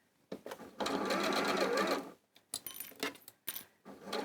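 A sewing machine stitches a quarter-inch seam on a Christmas project, running in a steady buzzing burst of about a second and a half, then in several shorter start-and-stop runs close by.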